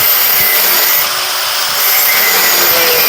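A cutoff wheel grinds and cuts through metal while a tool is made for a Corvair bearing adjusting sleeve, a loud, continuous high-pitched abrasive whine that stays steady throughout with no pauses.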